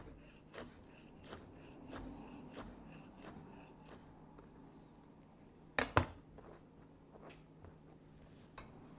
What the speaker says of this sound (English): And then we're just going to slice it fairly thin.